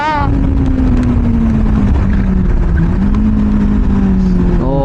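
Kawasaki Z800 inline-4 motorcycle pulling away in first gear, a loud close engine note that rises and dips, with throttle blips at both the start and the end, and a rider talking over it.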